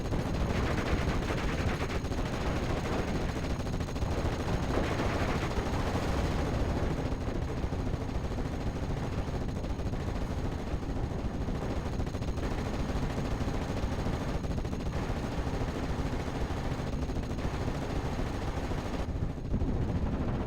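Steady gunfire and artillery fire in a Steel Division 44 World War II battle, a dense continuous barrage of shots and booms rumbling throughout at even loudness with no talk.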